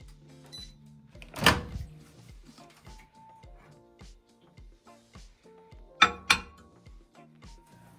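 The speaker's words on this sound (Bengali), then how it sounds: "তো আমি ফুল পাওয়ারে 1 মিনিট দিলাম গরম করার জন্য।" A 900-watt microwave oven on full power heats milk in a coffee mug, giving a low steady hum broken by a short electronic beep and a few sharp ceramic clinks.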